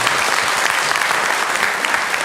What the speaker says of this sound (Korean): 우리 박수로 우리 한번 환영하도록 하겠습니다